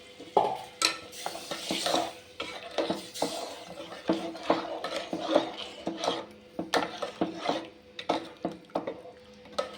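Rhythmic scraping and sloshing as tamarind is stirred into water in a vessel, with soft clinks and splashes repeating steadily, close up.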